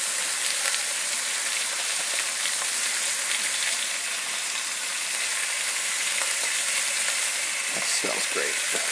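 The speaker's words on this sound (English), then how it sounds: "now carefully this goes into the pan. Give it a sear" Beef seasoned with kosher salt and pepper sears in a hot pan, a loud, steady, close sizzle that crackles evenly throughout.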